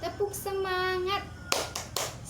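Children in a classroom doing the tepuk semangat clapping chant before a lesson: a sung vocal line first, then several sharp, close claps spaced in a rhythmic pattern.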